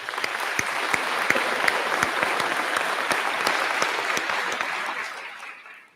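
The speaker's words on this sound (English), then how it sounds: "I think that deserves a round of applause." A crowd at a high school graduation ceremony claps loudly and steadily for several seconds, the applause fading out at the end.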